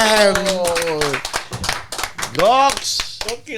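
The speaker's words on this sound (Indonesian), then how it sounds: "Berikan tepuk tangan sekali lagi untuk Bang Wancoy." Applause from a small podcast studio audience, scattered claps heard beneath loud, lively talking voices throughout.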